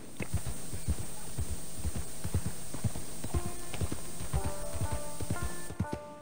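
Horse hooves clip-clop in a steady, rhythmic gallop while riding in the video game Red Dead Online, with tonal game sounds and light music layered in the second half.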